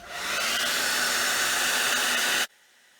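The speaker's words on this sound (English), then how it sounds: "use your hair dryer and concentrate on a few different spots, and it will heat that wax back up" A hair dryer blows loud and steady close by for about two and a half seconds while heating melted crayon wax, then switches off abruptly.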